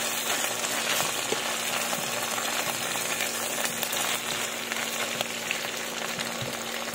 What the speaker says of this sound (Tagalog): iprito na natin yung ating pork steak